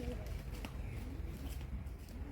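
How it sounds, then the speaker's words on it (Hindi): Pigeons coo softly and repeatedly, close by, under steady low ambient rumble, with faint speech-like murmur around them. "कई एक कबूतर हैं महाराज जी के।"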